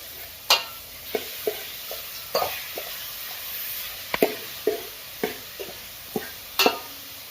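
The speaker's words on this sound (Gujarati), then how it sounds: "લસણ ને ડુંગળી ને બરાબર દસ પંદર મિનિટ આપણે શેકાવા દેશું" Garlic and onion roasting in a pan for a green chickpea curry, a soft steady sizzle punctuated by a dozen or so distinct spatula taps and scrapes at irregular intervals, close by and without voices.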